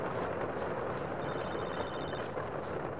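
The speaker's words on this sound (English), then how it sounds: "Got another phone call." A phone rings in the Unreal Engine 5 remake of Halo ODST, a thin, repeated electronic ring buried under a dense, loud wash of game ambience and rumble, with no talk.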